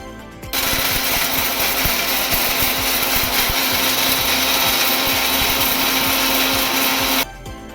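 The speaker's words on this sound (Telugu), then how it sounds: "ఇదిగోనండి, ఈ విధంగా మిక్సీ పట్టుకోవాలి." Kitchen mixer grinder running continuously at full power, grinding tomato pickle ingredients to a smooth paste, a loud steady whirring roar with rattling that starts abruptly and stops near the end.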